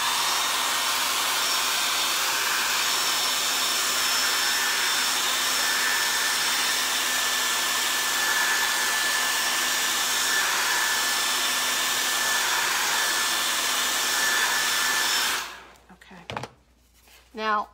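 A hair dryer blows on white paint coating a wooden piece, a steady loud whooshing drone lasting most of the time before it abruptly switches off, followed by a few brief handling noises.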